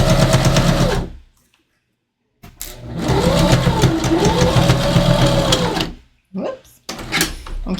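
A sewing machine runs steadily for about three seconds, stitching the last side of a patch pocket with rounded corners, then stops. A second shorter burst follows. The motor whirs loud and close, with brief pauses between runs.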